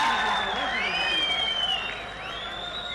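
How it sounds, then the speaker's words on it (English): Cricket crowd at a Nepal versus UAE one-day international roaring as the captain walks out, a broad sustained cheer with whistles and whoops rising over the stand noise, loud and continuous throughout. "As we hear a loud cheer from the crowd for the captain."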